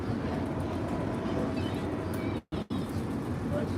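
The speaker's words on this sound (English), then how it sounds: "we just riding on this Amtrak train back home to Burlington" An Amtrak passenger train rides the rails in a steady, loud rumble heard from inside the car, with a brief drop near the end before the noise resumes.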